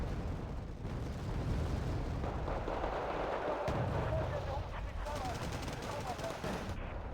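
Artillery fire in a video game rumbles in a dense, continuous barrage of booms and crackling blasts, with a player talking over it.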